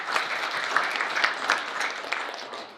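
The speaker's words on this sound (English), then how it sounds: "Clap it up, clap it up." Audience at a business talk breaks into brisk clapping, moderately loud with distinct individual claps standing out in an uneven rhythm over a few seconds.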